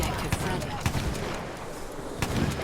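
Gunfire from shooting an enemy player in Battlefield 1, a few sharp shots scattered over a continuous game din, with a voice talking over it.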